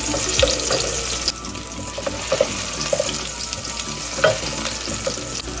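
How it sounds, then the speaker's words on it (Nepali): Onion frying in a pan for lasagna, a steady close sizzle with scattered stirring clicks and scrapes, no voices over it. "प्याज राखेर यसमा फ्राई गर्ने।"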